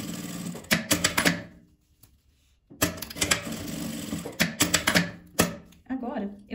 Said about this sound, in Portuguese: Vou passar só um pesponto aqui nessas laterais.